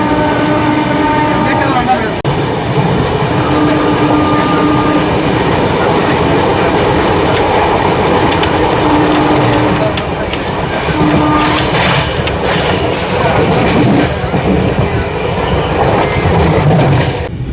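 The Tirupati to Bhubaneswar Weekly SF Express rolls steadily on the rails with a loud, continuous rumble and rhythmic clatter, while sustained horn tones sound several times throughout.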